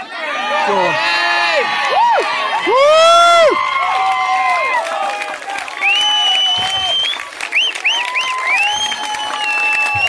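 At the Lowestoft Chilli Fest chilli-eating competition, a crowd claps and cheers the contestants. Excited voices whoop and shout over continuous applause, loud and close throughout.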